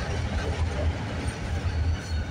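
A train rolls past on a rail line with a close, continuous low rumble of wheels on track and faint clacking, steady for the whole stretch with no speech.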